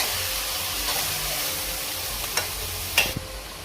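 Potatoes and masoor dal cooking in a pan give off a constant hissing sizzle, broken near the end by two quick clinks of a utensil against the pan. Nobody speaks.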